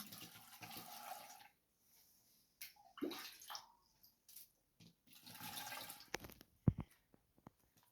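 Cold water poured into a glass jar packed with windfall apples for fermenting, coming in several separate gushing bursts with short pauses between them, ending in a brief louder splash and then quiet.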